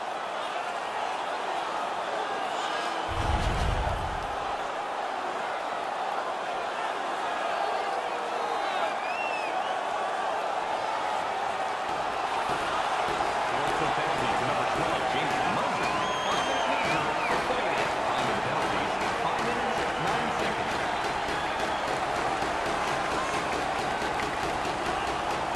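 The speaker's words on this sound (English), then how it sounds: "The Sabres players are screaming from their benches. Their guys won the fight. The crowd is so pumped right now." An arena crowd at an NHL playoff game between the Buffalo Sabres and Toronto Maple Leafs cheers loudly after a fight, with a sharp thump early on, then sustained roaring, whooping and scattered laughter that swells over time.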